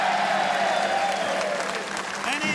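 A studio audience at a televised football show applauds, dense sustained clapping and crowd noise filling the space, with people talking over it.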